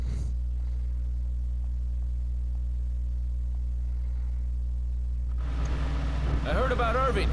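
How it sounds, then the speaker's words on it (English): A car in the video game Resident Evil 5 hums with a constant low engine drone for several seconds, then voices and louder activity join in near the end. "This is the car."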